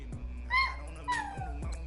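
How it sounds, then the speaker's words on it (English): A puppy gives a few soft whimpers and high yips, with two rising cries standing out over steady low background noise, fairly faint and close. "No, that's a puppy."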